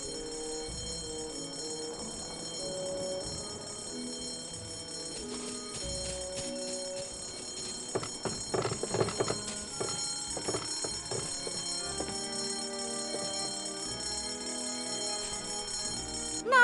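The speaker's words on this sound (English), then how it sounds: "The fire alarm is not a toy, Mr. Threepwood." A fire alarm bell in the video game Escape from Monkey Island rings continuously, a sustained metallic clanging that carries steadily from start to finish with no voices.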